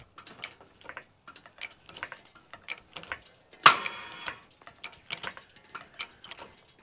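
Fence wire being tightened on a tied end knot, with a string of sparse, quiet ratcheting clicks and one brief louder scrape of wire taking up, near and otherwise quiet.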